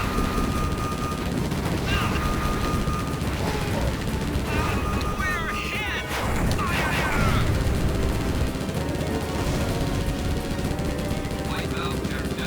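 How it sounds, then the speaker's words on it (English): Enemy gunfire rattles in Konami's 1996 arcade rail shooter Operation Thunder Hurricane, dense machine-gun bursts and crashes with game effect tones over a continuous loud battle din. "There's so many people firing at you."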